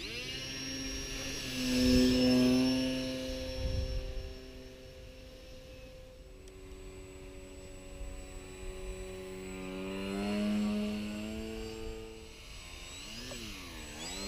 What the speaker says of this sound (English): One more little stall takeoff.